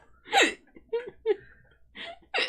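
A series of sharp, close hiccups, several short jerky bursts spaced irregularly with breathy sounds between them.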